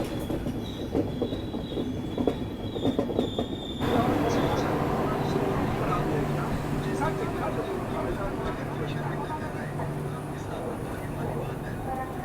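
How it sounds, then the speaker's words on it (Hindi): The 15744 Farakka Express pulls into Pandit Deen Dayal Upadhyaya Junction, a steady loud rumble of rolling coaches with rhythmic wheel clatter and faint squeals, heard from inside the train as someone talks over it. "अपने 21वें official halt Pandit Deendayal Upadhyay junction पर अपनी ट्रेन आ चुकी है"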